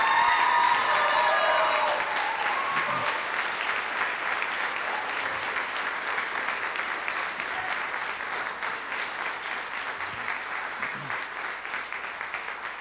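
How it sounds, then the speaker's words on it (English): Big round of applause for performers and East Bridgewater alumni, a full room clapping loudly at first, then settling into a long, steady wash of hands that gradually softens. "can we just give a big round of applause for everyone performing tonight and all East Bridgewater alumni?"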